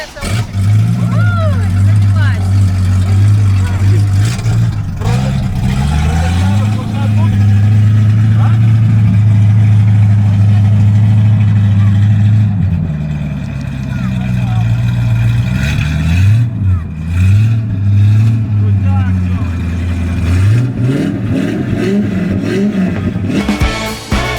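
A Dodge Dart's engine holds a deep, loud idle close by for most of the stretch, with several blips of revving rising and falling, mainly toward the end, on an autumn city street.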